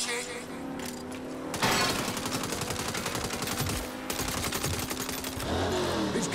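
Rapid automatic gunfire in Saints Row, a fast rattling burst of machine-gun shots close and loud, broken by brief pauses, with voices talking over it.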